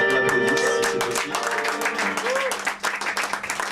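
An audience applauds Pascal Bonin at an evening tribute in Fleurus, a dense, steady wash of clapping from many hands over a low hum, thinning slightly toward the end.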